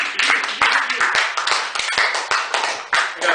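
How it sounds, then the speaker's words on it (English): A small audience at a poetry feature in a Chicago cafe cabaret claps close and loud, with distinct individual hand claps in an uneven rhythm that runs steadily for a few seconds. "Clap for that."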